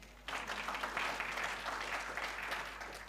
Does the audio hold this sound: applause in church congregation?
yes